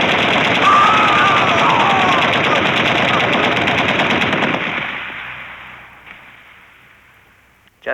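Soldiers in a film fire machine guns in one long, loud, sustained volley that gradually fades and thins out toward the end, with a brief sharp sound at the very close.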